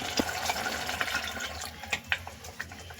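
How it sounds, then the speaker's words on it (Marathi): Water poured from a rinsed pot into a simmering cauliflower curry, a soft steady splashing and trickle with a few louder bursts near the end, close by and alone. "तेच भांडं धुवून आपण पाणी ॲड करणार आहे"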